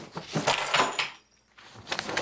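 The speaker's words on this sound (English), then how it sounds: "Emily, do you have the keys to the office?" Metal keys jangle in bursts at a town selectboard meeting, a near rattling that fades briefly to near silence before jingling again.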